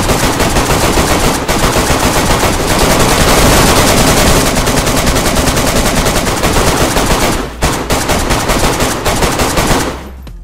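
Sustained automatic gunfire rattles loud and close during a DayZ base raid, in rapid bursts with brief pauses near the end.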